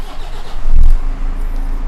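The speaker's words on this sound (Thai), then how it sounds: "เครื่องยนต์ติดง่าย เดินเรียบรอบนะฮะปกตินะครับ" An older four-wheel-drive car engine fires up with a brief loud surge, then settles into a steady idle, close by and with no talk.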